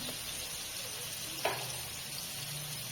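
Shrimp with onion, garlic, turmeric and salt fries with a soft, steady sizzle in a pan, broken by one brief utensil tap, fairly faint and without voices.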